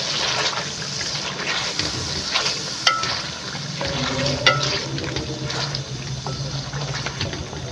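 Cream is stirred into a sizzling beef white karahi: a steady wet bubbling and frying hiss with soft scraping and spoon clinks, close by, with no talking.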